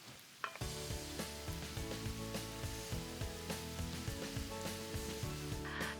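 Sausage browns in a pan for chili verde, giving a steady close sizzle with a sharp onset as it hits the heat, then constant crackling and occasional stirring scrapes, no talk.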